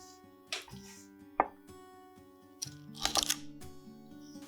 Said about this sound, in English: Or you can line it up and cut them off with the chef's knife.